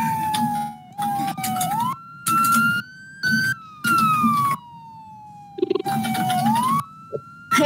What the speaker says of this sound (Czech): Hej, Jure, slyšíš tu sirénu?